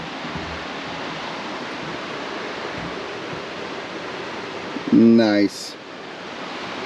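A creek below a ranch porch rushes in a steady, broad wash of flowing water that fills the whole scene, with a brief spoken word near the end.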